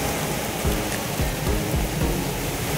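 Heavy rain from a typhoon pours down in a dense, steady roar with low thuds mixed in, loud and close throughout.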